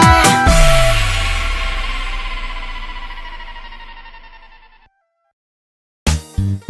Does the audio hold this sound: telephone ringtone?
yes